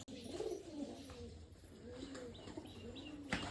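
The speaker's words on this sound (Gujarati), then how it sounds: "કેટલા બધા કબૂતર આવ્યા છે ચરવા માટે દાણા ખાય છે" Pigeons coo repeatedly while feeding on grain, soft rolling calls close by with light chirps and occasional wing flutters, no talk.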